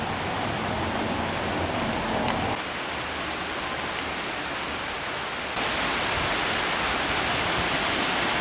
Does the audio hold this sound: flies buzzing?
no